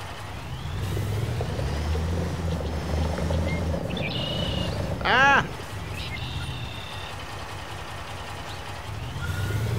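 A flatbed truck engine in the video game Construction Simulator 22 rumbles low and steady under game sounds, with a brief rising-falling whine midway and a short exclaimed voice.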